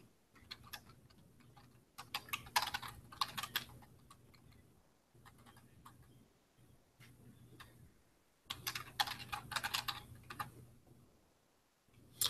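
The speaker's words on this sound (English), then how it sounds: "So I'm just going to type in subduction zone." Keys on a computer keyboard clack in short bursts of quick typing with pauses between them, close and fairly quiet, alone with no talk.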